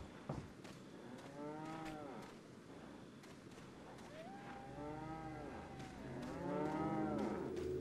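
Cows moo in Resident Evil 4, several long, low calls heard faint and distant across a quiet rural scene, one after another with gaps between.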